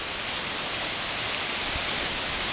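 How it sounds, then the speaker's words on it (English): Heavy rain pours outside in a dense, steady hiss that fills the whole moment, loud and unbroken, with no voices over it. "Look at that rain out there."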